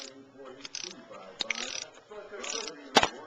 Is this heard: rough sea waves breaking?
no